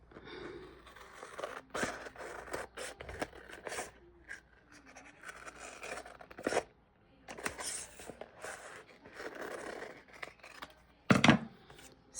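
Scissors snip through paper while cutting out a junk journal flip flap, a quick series of close, crisp cuts with brief pauses, rustling paper handling, and a louder snip near the end; no one speaks.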